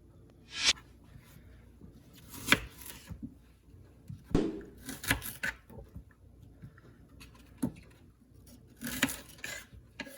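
A knife slices through onions on a cutting board, producing a handful of sharp, separate cuts and knocks spaced a second or two apart, close and fairly quiet with soft rubbing between strokes.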